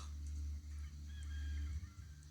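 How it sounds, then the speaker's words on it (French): Chickens cluck and call faintly in the distance over a low, steady rumble, with a few soft bird notes scattered throughout, in France after a hailstorm. "il y a toujours les poules qui font pou, pou, pou, pou, pou."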